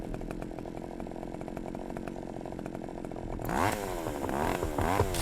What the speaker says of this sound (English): Why does he have a chainsaw?